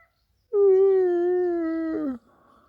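A dog lets out a single drawn-out howl, a clear steady tone held for about a second and a half before dropping off at the end, loud and close with quiet before and after.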